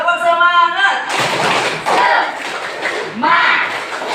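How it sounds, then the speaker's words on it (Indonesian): Schoolchildren in a classroom do a rhythmic spirit clap, with loud bursts of clapping and group chanting that alternate with a teacher's voice. "tepuk semangat"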